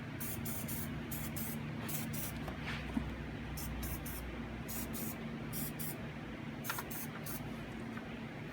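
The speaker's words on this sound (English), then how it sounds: "I like to spray a little bit of lubricant in them" A continuous hiss of lubricant spraying into Cadillac engine fuel injector holes runs throughout, with a steady low hum underneath and a few faint rhythmic clicks.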